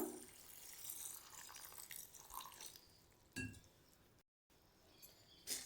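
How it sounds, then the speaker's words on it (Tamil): Water trickles and splashes faintly into a container of soaking split mung lentils and semolina, with a few light clinks and a brief drop-out partway through. "இதில் வந்து கொஞ்சமாக தண்ணி விட்டுக்கலாம்"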